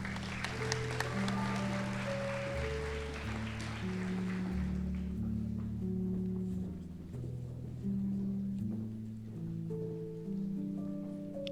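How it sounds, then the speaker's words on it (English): An audience at a nursing school white coat ceremony applauds as students exit the stage; clapping mixes with sustained background music, then fades halfway through while the music continues alone. "Another applause for them as they begin to exit the stage."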